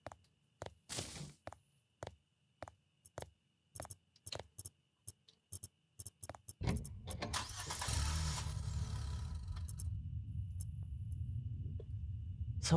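A garbage truck engine cranks and catches in the video game Cleaning Redville, following a series of sharp clicks and taps, then settling into a steady low idle that runs to the end.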